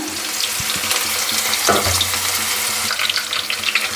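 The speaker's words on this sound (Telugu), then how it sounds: "ఇప్పుడు ఆనియన్స్ అయితే వేగిపోయాయండి" Thinly sliced onions sizzle steadily in hot oil with spluttered cumin, fenugreek and mustard seeds, a dense close frying hiss with a few utensil clicks, for a Rayalaseema okra and dried-fish curry.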